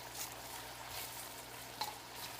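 Cabbage frying in a pan, a faint steady sizzle with a soft crackle and a brief stirring clink, heard alone without talk.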